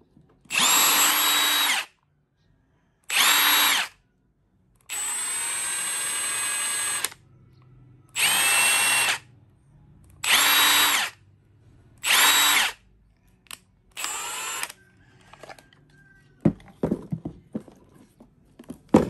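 A Milwaukee 2864 cordless impact wrench fires in seven separate bursts, mostly about one to two seconds each with one longer run, each separated by silence, loud and close, followed by clattering handling noises.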